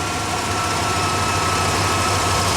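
A 1995 Ford F150 truck engine runs close and loud under heavy alternator load, a steady low labouring drone with dense rumble and no talk over it.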